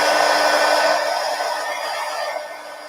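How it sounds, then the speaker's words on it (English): A hair dryer blows steadily on thick, wet glitter stars on a calendar collage, a loud, even rushing roar that eases slightly in level over the three seconds with no talking. "let me dry it first because I got these wet stars"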